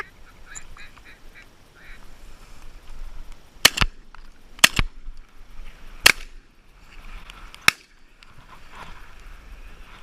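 Shotgun blasts on a rainy Oregon duck hunt in a marsh, four sharp, loud reports spaced a second or so apart, with ducks quacking faintly before and after the shots.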